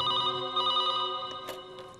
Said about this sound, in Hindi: कल सुबह अचानक ही राहुल का फोन आ गया।